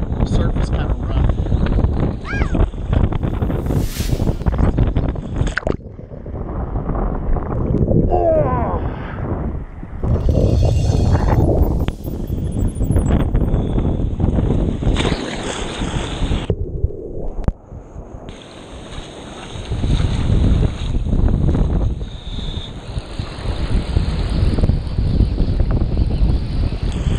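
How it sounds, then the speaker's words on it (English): Strong wind roars and buffets the microphone at a rough-surf shoreline during fly fishing, a dense, constant rushing noise that swells and drops in gusts throughout. "man, it's windy today. And the surf is kind of rough."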